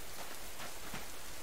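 Steady rain falls in the video game Subsistence, a dense, even hiss of drops with no talk over it.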